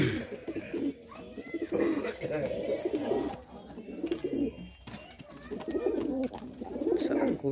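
Pigeons at a pigeon keeper's loft coo in low, throaty repeated phrases, close and steady, with someone talking over them.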